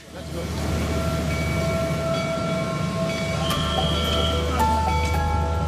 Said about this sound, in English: I've never been on a Pakistani train before.